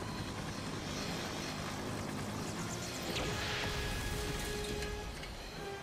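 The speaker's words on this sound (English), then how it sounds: "Oh, that helicopter's gonna get it" Helicopter in The Incredibles video game on Xbox, a dense, loud rotor and engine roar with a brief crash-like burst midway, steady throughout with no speech.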